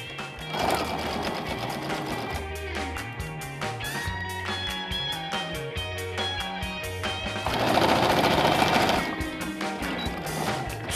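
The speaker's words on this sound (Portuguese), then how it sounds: "Então eu vou fazer uma costurinha e vou deixar aberto aqui no meio." Domestic sewing machine stitching a seam in fabric, with a reverse backstitch to lock it, running steadily for the whole stretch and swelling louder near the end, alone with no talk.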